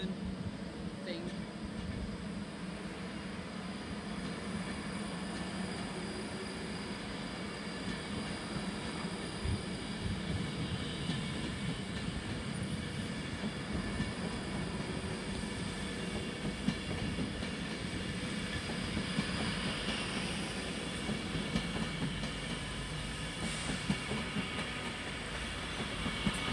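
A train rumbles past at Crewe station, a long continuous rolling roar with faint rhythmic clicks of wheels over rail joints, a voice talking over it.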